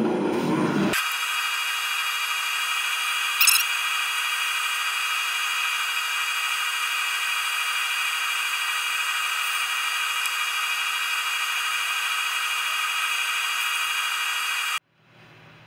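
Walnut goblet spinning on a wood lathe while being sanded, a steady continuous whir with a faint rubbing hiss that holds evenly for about fourteen seconds before cutting off abruptly, no voices over it.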